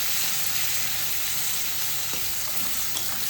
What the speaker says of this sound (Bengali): কালো জিরে দিয়ে পেঁয়াজ দিয়ে দিচ্ছি